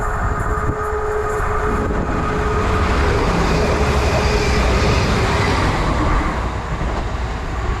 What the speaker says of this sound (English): we've got a Greater Anglia service from Norwich to Stansted Airport. Making a hell of a noise as it came through